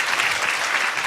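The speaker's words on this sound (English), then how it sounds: "let us give a round of applause to Andy for this wonderful presentation" Steady, even applause from an audience after an academic library presentation on sustainable services, dense and continuous throughout with no voices over it.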